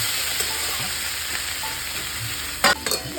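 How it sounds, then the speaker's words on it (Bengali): Snake gourd slices frying with salt in oil in a covered pan give a steady, close sizzle and hiss throughout, with a couple of brief clinks of a lid or utensil near the end. "লাল লাল করে দুটো সবজি ভাজা হয়ে গেছে।"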